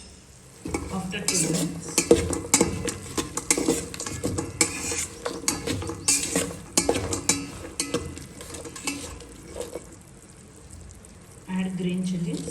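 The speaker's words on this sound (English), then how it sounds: "Fry for 2 minutes." Sprouts pulao frying in a pan while a utensil stirs and scrapes it, a steady sizzle under repeated clinks and scrapes of metal on the pan, with a voice briefly speaking.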